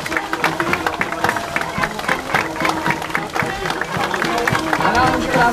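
An outdoor crowd at the Havířov v květech 2018 town festival claps for a majorette troupe, a dense patter of many hands rising toward the end while a voice talks over it.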